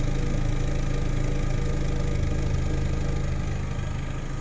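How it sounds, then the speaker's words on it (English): A Pontiac Sunfire engine idles steadily after a new fuel injector was fitted, a close, even low rumble running unbroken throughout with no voices. "put a new fuel injector in it, the car's purring like it's supposed to"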